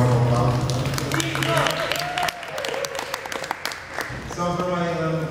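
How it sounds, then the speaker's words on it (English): Applause crackles through a Eurovision press conference for Croatia in Baku, with many hands clapping in a lively rattle while a voice talks over it, the clapping loud and close throughout. "Round of applause."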